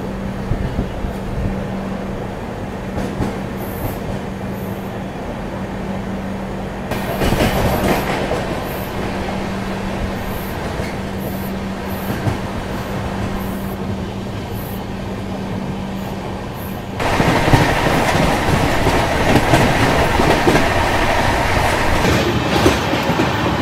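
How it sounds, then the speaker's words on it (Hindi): Steady rumbling clatter of a double-decker express train heard from inside the coach at speed on a long non-stop run, with a constant low hum that gives way to louder, rougher track noise near the end. "अब लगभग 140 किलोमीटर ट्रेन नॉन स्टॉप भागने वाली है, और सीधा बोरीवली में जाकर रुकेगी।"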